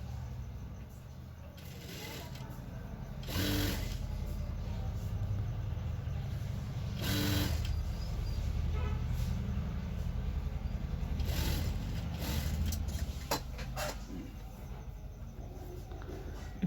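A sewing machine stitches green strip piping onto the legs of ladies' pants, running in a steady mechanical whir with a few louder bursts, close and continuous with no talking.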